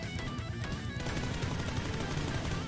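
Rapid automatic spray of an unmodified rifle in PUBG, a dense continuous rattle of shots with no pauses, close and loud.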